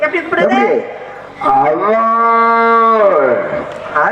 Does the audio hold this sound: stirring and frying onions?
no